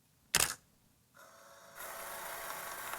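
Vintage-style camera shutter effect from the OldRoll phone app: one sharp click, then a soft mechanical whir and a rising film-advance hiss, close and clear.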